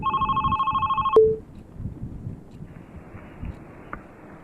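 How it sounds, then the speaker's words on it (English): A landline telephone rings in the Love, Sam video game: a steady electronic trilling ring that cuts off abruptly after about a second, followed by a brief blip and a quiet, rumbling ambient background. "Wait, that was a landline phone."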